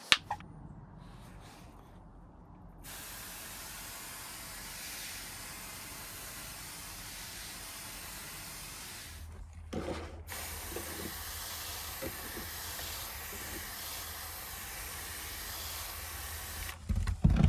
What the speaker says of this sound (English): So next step is to moisten or mist the plants.